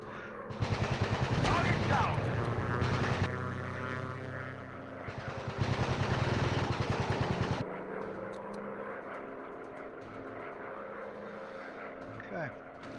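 Rapid machine-gun bursts from warplanes over droning aircraft engines in the VR game War Planes, loud sustained firing in two long volleys before the engine hum carries on, with someone talking over it.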